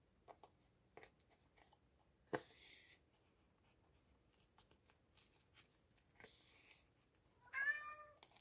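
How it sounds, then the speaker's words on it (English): A house cat meows near the end, a single rising, drawn-out call after scattered scratching and rustling from trying to open a cupboard door, fairly close with no talk. "Is your cat opening cupboard doors as well?"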